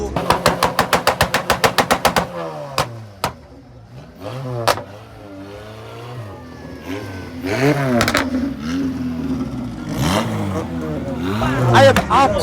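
Custom JZ-engined car with a huge body kit, up from Laos, revving at a big car meet in Korat during a heatwave: a rapid burst of sharp revs, then a rumbling idle and rising revs under crowd chatter.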